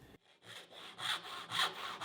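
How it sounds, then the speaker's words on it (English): A hand saw rasps through wood in steady back-and-forth strokes, about five close, moderately loud passes after a brief pause at the start, with no talking. "There it is, a beautiful saw that I can use for a lifetime."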